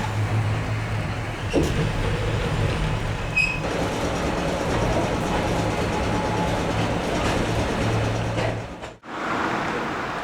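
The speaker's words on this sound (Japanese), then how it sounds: "岡山にも路面電車があるんですね。" A street tram in Okayama, Japan rumbles steadily along the rails with a low droning hum, a few faint clicks and squeaks, ending in a brief pause.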